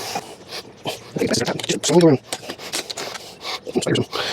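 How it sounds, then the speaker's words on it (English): A plastic Mini Cooper taillight being pried out of its mounting clips: close, uneven bursts of rubbing and rasping plastic scrapes across the whole stretch, with a brief voiced sound from a person partway through. "just take your time and slowly pry, and out she comes"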